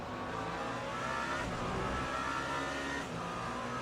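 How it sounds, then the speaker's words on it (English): A race car engine in the iRacing sim game roars steadily and loudly for the full few seconds, a dense continuous drone with small rises in revs and no talking. "This engine sounds fantastic, I love it."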